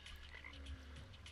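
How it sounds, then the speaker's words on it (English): Frogs croak in the video game Terraria, low repeated guttural calls that sound faint and distant over a quiet ambient background, with no talking. "Why are there frogs in here?"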